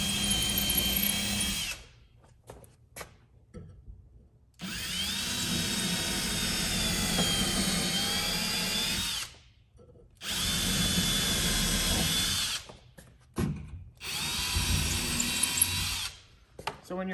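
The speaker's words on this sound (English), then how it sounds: "take your 1/8 inch drill bit again and drill above those screws" Power drill with a 1/8 inch bit boring pilot holes above the screws on a floating shelf bracket, three loud close bursts of steady whining drilling separated by short pauses.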